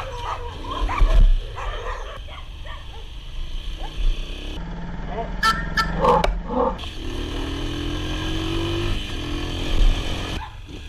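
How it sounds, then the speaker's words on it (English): A dog roaming the street in Chile barks and yips several times, fairly close, over steady motorcycle engine rumble and road noise. "Got a dog."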